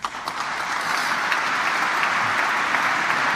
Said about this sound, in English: listen to the clapping because that is significant